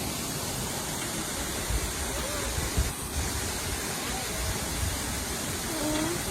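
Millaa Millaa Falls, a plunge waterfall in the Tablelands region, gives a continuous, dense roar of falling water that fills the scene evenly, with only brief faint disturbances.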